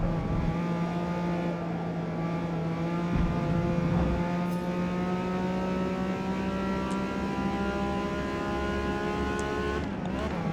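Nissan GT-R race car in Forza Motorsport 8 accelerating out of a corner, a steady, rising engine drone with layered harmonics that climbs continuously for the whole stretch, loud and close, with no talking.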